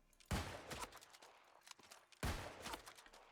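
Two loud musket shots in the video game New World crack out about two seconds apart. Each has a sharp blast followed by rumbling echoes, with softer clatter and thuds between them.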